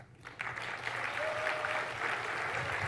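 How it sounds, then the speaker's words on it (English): An audience at the Build 2017 developer conference applauds a presenter. The clapping starts thin, quickly fills out into steady, moderately loud applause and keeps going. "All right, let's give Brian a round of applause."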